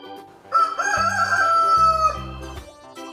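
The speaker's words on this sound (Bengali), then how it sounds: "এটা হলো মুরগি" A rooster crows once, loud and close: a long, strained cock-a-doodle-doo lasting over a second, with low steady tones running underneath.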